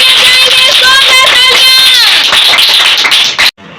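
An audience at a children's church ministry competition claps loudly and continuously while children's voices cheer over the applause, until it cuts off abruptly.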